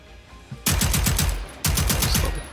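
Submachine gun in Generation Zero fired in two sharp, loud automatic bursts, each about a second long with rapid evenly spaced shots, separated by a short pause.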